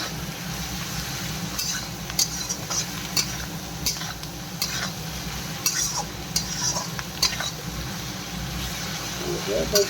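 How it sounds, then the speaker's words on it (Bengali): Ingredients for chicken chow mein frying in a pan with a steady sizzle, broken by stirring clinks and scrapes, and a voice talking over it. "দিয়ে ভালো করে এটা ভেজে নিই, একটু ভেজে নিয়ে"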